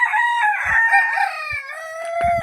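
A rooster crows loudly and close among free-range desi village chickens, with clucking hens mixed in and a few soft knocks between calls.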